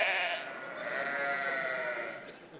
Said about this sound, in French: la mélopée nostalgique des moutons venant du pâturage